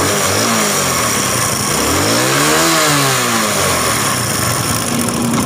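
Honda CD70 motorcycle engine running with a worn timing chain, a close, steady mechanical chatter over the idle that rises and falls as the throttle is blipped once in the middle, then settles back.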